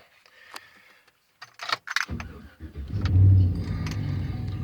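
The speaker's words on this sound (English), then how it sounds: "I'll get in here and crank it up." A 2007 Chevy Silverado pickup truck is cranked and fires up after keys jingle, the engine catching with a deep rumble that settles into a steady close idle.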